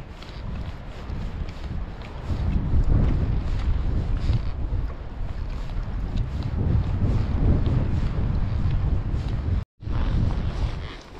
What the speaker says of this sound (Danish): Kæft, den irriterende den vind.